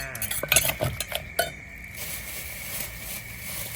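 Utensils clink and tap against a bowl in a quick burst while green papaya salad ingredients are stirred and mixed, then settle into a quieter soft scraping hiss.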